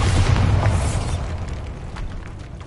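A Bombarda blasting spell in a Harry Potter video game explodes with a loud, full burst right away, then a rumbling tail that gradually settles under scattered small pops.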